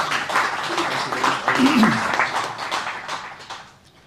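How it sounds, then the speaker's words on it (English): Audience at a Cape Town book launch claps in a steady, moderately loud round of applause that swells and then fades away, with a voice briefly audible under it. "I think they need a round of applause for that."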